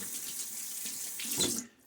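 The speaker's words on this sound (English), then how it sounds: "I'm going to add a little bit more water" Water runs steadily from a tap for wetting shaving soap lather, a close, even hiss that swells briefly and then cuts off.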